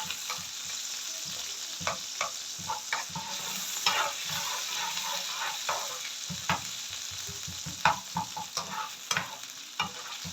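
Chopped garlic sizzling and frying in a little oil in a pan, stirred twice, with a steady crackling hiss and scattered scraping clicks of the spoon, close and alone with no talk.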